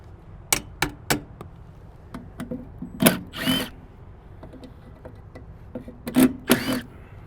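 A cordless power tool removing the screws of an HVAC fan motor, its short whirring bursts broken by sharp clicks and clunks as screws and parts come loose, close up and with no talk.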